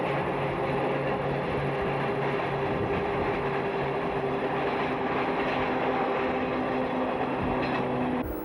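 An autorail railcar runs along the Cévennes line between Clermont and Nîmes, giving a steady, loud rumbling roar with faint droning tones throughout, heard alone without voices.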